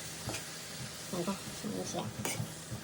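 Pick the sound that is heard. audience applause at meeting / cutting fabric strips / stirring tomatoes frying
stirring tomatoes frying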